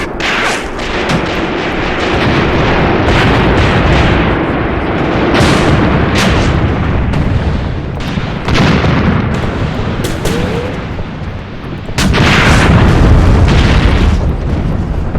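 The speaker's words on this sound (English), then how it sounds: "You can see the heavy shots coming in to take our men out." Artillery shells explode during a World War II tank battle in the ruins of Tunisia, 1943, a dense, continuous roar of booms and cracking impacts, with a loud blast late on over heavy rumbling.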